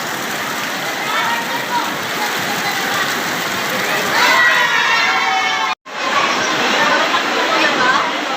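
Heavy rain pours outside during a storm with strong wind, a dense, steady hiss that holds for the whole stretch, briefly cutting out once, with faint voices underneath.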